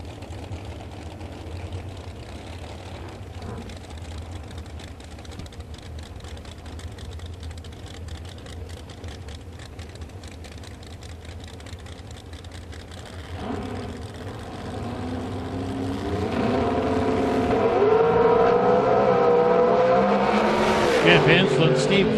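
Drag racing cars in the 632 class, including a 2003 Corvette, rumble at a distance before one engine swells into a loud, rising roar near the end, with announcer talk over the track noise.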